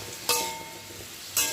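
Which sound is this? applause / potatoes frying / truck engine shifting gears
potatoes frying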